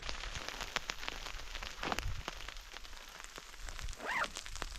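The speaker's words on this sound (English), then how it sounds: "It's thundering and lightning on us pretty good and hailing" Hail and rain fall on a camp tent's rain fly during a thunderstorm, making a faint, steady patter dotted with sharper individual ticks and taps.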